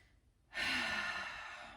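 A single long exhale during a yoga stretch, starting abruptly after a short quiet and fading slowly, close and breathy with no talk.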